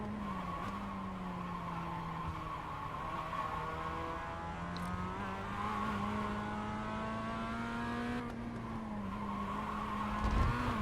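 A race car in a racing video game slides into oversteer, its tires squealing in a long, sustained skid over a steady engine drone, holding loud and close for about ten seconds without speech.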